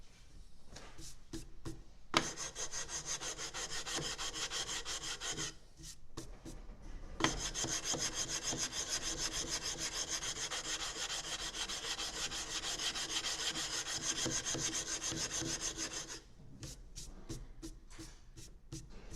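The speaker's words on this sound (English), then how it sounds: "And that way I get an even flat sand across the entire length." Sandpaper rubs steadily along the wooden length of a bass guitar with a close, raspy scraping. A long continuous stroke is framed by shorter back-and-forth passes at each end, and there is no talk.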